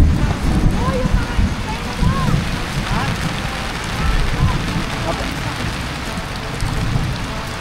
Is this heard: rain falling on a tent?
yes